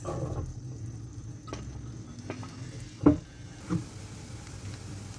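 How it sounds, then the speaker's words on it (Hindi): Onions sizzling in about 50 grams of hot butter in a pan for Bohra-style pav bhaji, a steady low frying hiss with a couple of sharp stirring knocks near the middle. "जी मक्खन गर्म हो चुका है, अब इसमें हम डाल देंगे प्याज।"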